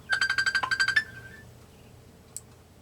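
A mobile phone left charging in another room plays a ringtone of about a dozen quick, evenly spaced bright chimes that ends after a second. A faint single click follows in a quiet indoor space.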